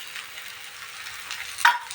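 Thalipeeth dough flatbread frying in a little oil in a kadhai gives a soft, steady sizzle throughout, with a brief louder burst near the end as the pan is moved.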